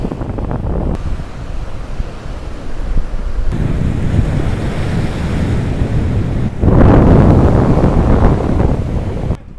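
Sea waves roll in steadily at a beach in Surat with dark sand, a loud, continuous roar of surf mixed with heavy wind buffeting the microphone, growing stronger toward the end.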